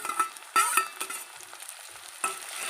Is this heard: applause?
no